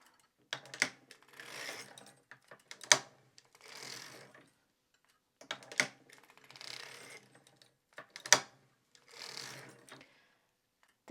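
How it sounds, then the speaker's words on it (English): A circular sock knitting machine cranked through a row while making heels, giving bursts of ratcheting, clacking mechanical clicks with whirring between them, repeated in two similar cycles, close and clear with no talk. "Raise the needle, crank a row."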